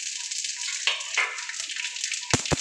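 Bay leaf, cardamom, dried red chilli and panch phoron tempering in hot oil for a vegetarian mixed-vegetable curry with lentil fritters, a steady close sizzle and crackle with a couple of sharp pops near the end.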